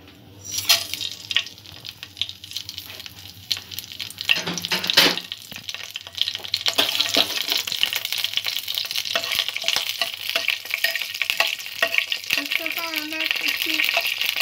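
Bay leaves, cardamom and black pepper dropped into hot oil in a pan for carrot pulao: a sudden crackling sizzle grows into a continuous bright hiss with occasional stirring clatter, close and fairly loud, with no talking.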